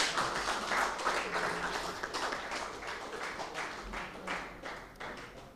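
Audience applause at a formal dinner of a Nigerian consulting engineers' association, honouring a doctor: steady, dense clapping from many hands that fills the room, holding level and slowly thinning toward the end.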